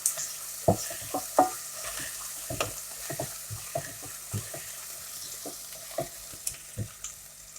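Salt stir-fried in a dry pan for a chicken wing braise gives soft scraping and stirring clicks with scattered sharper taps, quiet and close, irregular through the clip, no talk.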